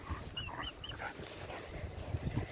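A dog out in open fields whimpers eagerly to play, giving a few faint, high, thin whines near the start over quiet outdoor background and soft rustling.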